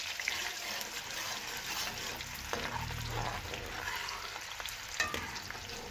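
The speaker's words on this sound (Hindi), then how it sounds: "थोड़े से ऑयल में प्याज डालेंगे" Onions fry in a little oil for prawn Manchurian, a soft, steady sizzle with occasional stirring clicks from a spoon against the pan, heard close and with no talk over it.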